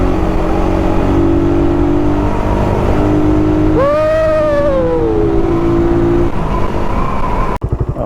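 A vehicle engine pulls hard to overtake on a road in Pagbilao, Quezon. It sends a loud, steady roar through wind noise, and the pitch climbs sharply in a rising sweep before settling back, with no voices.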